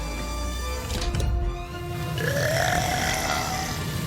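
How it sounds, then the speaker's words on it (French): A long, loud, guttural burp rumbles and stretches over several seconds, with voiced gurgling that rises in pitch toward the end. "On lui a roté à la gueule"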